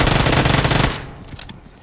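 A quick burst of rapid gunfire in the mobile battle royale game BGMI, loud and close for under a second, then fading into a faint tail with a few softer sounds.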